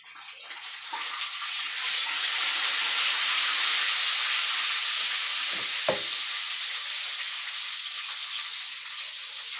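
Onion hits a pan of frying garlic rice (sinangag) with a loud, steady broadband sizzle that swells over the first seconds and holds, broken near the middle by a brief clatter of stirring.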